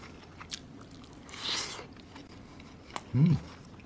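Soft close chewing and biting of omelette rice with ketchup, a few faint moist crunches and one louder bite near the end, with no talking.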